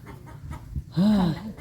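A chicken gives a short, close cluck or squawk among rural background noise, a single drawn-out call lasting about half a second.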